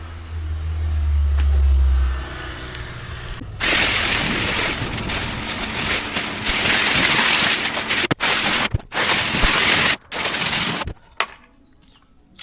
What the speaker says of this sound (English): Just going to put the lance on and rinse all that off